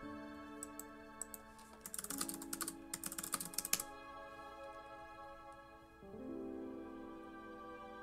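Answers are typed on a computer keyboard during an online drawing-and-guessing game, heard as scattered then rapid clusters of soft key clicks over a quiet musical background, with no talking.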